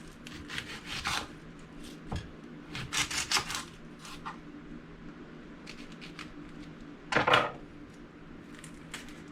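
A knife cutting an onion on a board, with irregular close taps and scraping strokes, some brief clusters of quick cuts, no talking.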